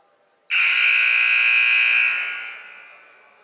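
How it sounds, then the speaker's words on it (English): A loud, steady basketball arena buzzer at a NJCAA men's college game sounds once for about two seconds and then fades out, with no talk over it. "The buzzer sounds as we are just about ready to get back into action from timeout."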